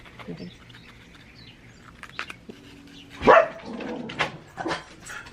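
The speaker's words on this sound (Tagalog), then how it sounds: "Ito talagang aso, no?" A dog barks a few times at moderate distance, sharp yips standing out against a background of people talking.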